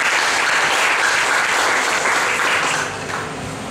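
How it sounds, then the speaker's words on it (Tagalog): A church congregation bursts into loud applause during a sermon, a thick, sustained wall of clapping from a large crowd that eases slightly in volume toward the end. "Isa pa akong malakas uling palakpak."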